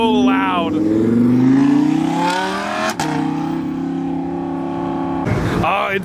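A forest green Plymouth Cuda, leaving a Dallas car show, pulls away with a rising engine note that climbs through gear changes, loud and close, while people talk over it.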